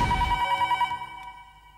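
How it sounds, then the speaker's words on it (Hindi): A telephone rings once in a drama scene, a loud electronic bell tone that quickly fades and trails off over under two seconds, heard alone with no talking. "एक फोन कॉल जरूर आया था।"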